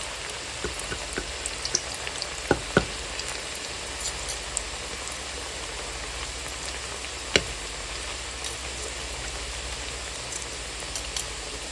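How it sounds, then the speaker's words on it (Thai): Mushrooms dropped into boiling oil fry with a steady, dense crackle and pop, fairly close, with a few sharper spits rising above the continuous hiss; no voices. "น้ำมันของเราก็เริ่มเดือดแล้ว จะลงไปเลยค่ะ"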